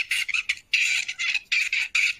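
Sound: young songbird's first distorted attempt at song, recording

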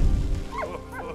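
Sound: dog barking in video game Valiant Hearts

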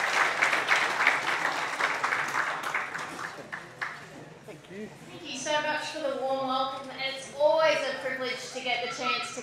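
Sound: audience applause at opening ceremony

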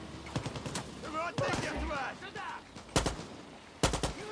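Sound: gunfire in the video game Far Cry 6

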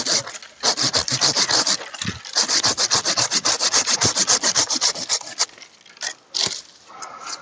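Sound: cutting a branch off a tree for grafting

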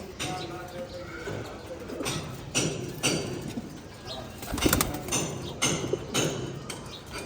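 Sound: pigeons cooing

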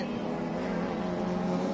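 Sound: touring race cars on track

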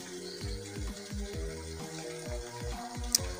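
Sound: water being added to a chemical solution

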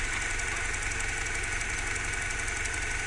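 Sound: Mini Cooper 1.6 engine idling

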